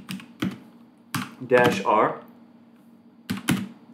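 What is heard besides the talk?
typing on a new computer keyboard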